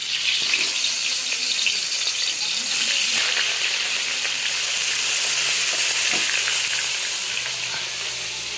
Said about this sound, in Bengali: আমি মাছটা দিয়ে দিচ্ছি